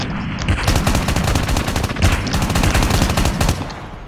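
Loud bursts of automatic gunfire from Call of Duty Mobile, rapid dense shots rattling almost nonstop for about three seconds with brief pauses, and no voices over them.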